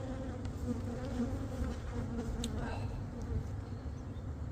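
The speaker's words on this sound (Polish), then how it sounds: "tutaj karmimy te ule dalej" Honeybees buzz steadily around beehives where colonies are being fed, a continuous dense hum close by that never lets up, with faint light clicks now and then.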